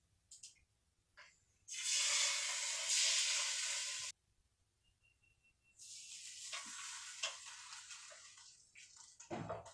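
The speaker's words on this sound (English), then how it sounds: "We're ready to pop the steaks in." Flat iron steaks laid into a preheated air fryer basket: a loud burst of sizzling hiss for a couple of seconds, a short pause, then a longer, softer steady sizzle with a few scraping clicks and clunks at the end.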